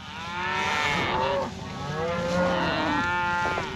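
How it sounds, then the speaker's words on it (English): Cows moo repeatedly nearby, two or three long lowing calls in quick succession with a steady background of farm noise. "these cows are going to go into this paddock"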